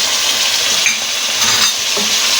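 Chicken fries in a pan with masala, ginger and garlic, giving a loud, steady sizzle with faint stirring scrapes throughout.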